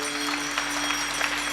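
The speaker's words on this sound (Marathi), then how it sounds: "टाळ्या वाजवा जोरदार." Applause from a kirtan audience in Muktainagar, a steady brief patter of many hands clapping together at moderate volume over a faint electrical hum, with no voices on top.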